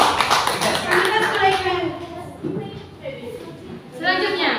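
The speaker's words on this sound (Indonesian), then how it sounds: "Tepuk tangan dulu." A classroom group claps their hands together, with quick, crisp claps bunched at the start and fading soon after. A teacher's voice speaks over them and continues afterward.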